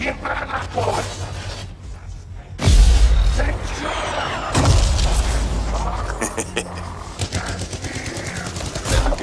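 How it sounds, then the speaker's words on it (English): Mortar rounds fire and explode in the video game Anthem, with two heavy booming blasts a couple of seconds apart, surrounded by crackling combat noise and a player talking. "I have time to use that mortar."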